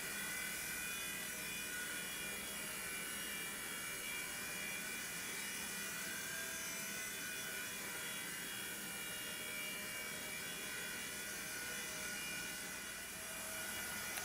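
A WLtoys V911 RC helicopter flies close by while its throttle is pushed up and down, producing a continuous loud rotor and motor whine that holds steady throughout with no talking.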